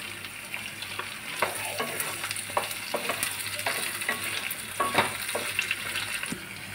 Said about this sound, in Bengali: তো আলুগুলো দিয়ে আমি একটু নেড়ে নেব